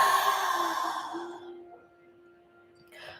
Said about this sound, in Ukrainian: глибокий вдох. Видих.